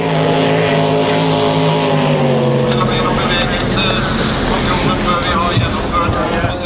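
Class 1 offshore racing powerboats roar through a practice session at Arendal in 2007, a loud, steady engine drone with a falling harmonic whine that gives way to dense broadband rumble, with someone narrating over it.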